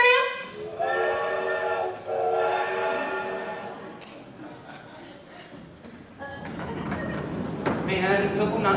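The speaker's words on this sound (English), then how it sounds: "after a confusing train station experience" Train station sound effect during a high school stage play: a drawn-out, tonal train whistle blast followed by rumbling railway noise and a second whistle, loud and fairly near, with voices in the background.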